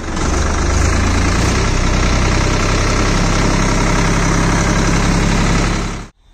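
A Swaraj 855 FE 4WD tractor engine idles steadily at close range, a loud, continuous diesel rumble with a slight knocking throb that cuts off abruptly at the end.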